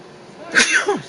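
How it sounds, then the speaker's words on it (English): A single sharp human sneeze, loud and close, building from a quiet breathy intake into an abrupt burst with a short trailing exhale. "I'm sorry for sneezing."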